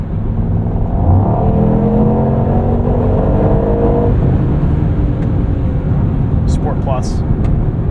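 A 2024 Mercedes-Benz AMG GT63 Coupe street car accelerating hard at sunrise, its engine note rising in pitch over several seconds, loud and close from inside the cabin, then settling into a steady drone.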